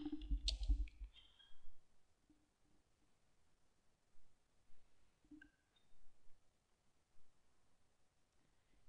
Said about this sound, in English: Click on whatever country you're in.